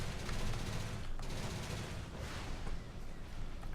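Weapons open fire in the space strategy game Stargate Empire at War, a dense, continuous barrage of rapid shots and booms that stays loud throughout.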